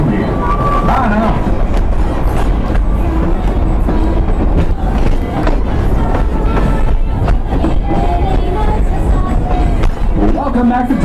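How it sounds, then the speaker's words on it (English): Tweetsie Railroad's Thomas excursion train rolling to a stop, a loud steady rumble of rail cars with clanks and rattles, and passengers chattering throughout. "please remain seated until the train has come to a safe and complete stop"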